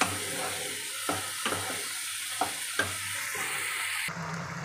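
A turmeric and salt spice mix for fish is stirred in hot oil. Several rhythmic spatula scrapes cut through a constant, fairly loud sizzle, and the tone shifts just before the end.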